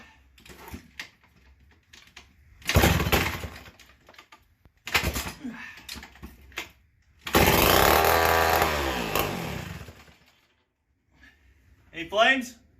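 A McCulloch Model 73 two-stroke chainsaw engine with a full wrap handle fires in loud rough bursts and one longer snarling run, close by, with quiet gaps and handling noise between.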